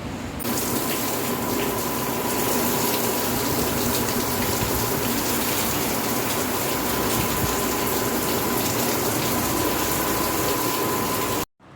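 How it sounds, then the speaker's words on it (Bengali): Heavy rain pours down outside in a dense, unbroken roar that stays loud and even for nearly twelve seconds before cutting off abruptly, with no voices. "শুনতে পেলে তো কি জোরে বৃষ্টি হচ্ছে"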